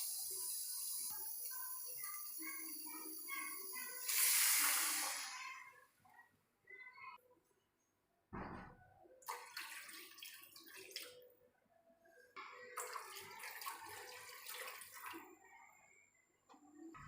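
Water poured into a cooking pot for pigeon pea rice, a splashing stream that runs in several bursts separated by pauses and soft clatter, fairly quiet overall.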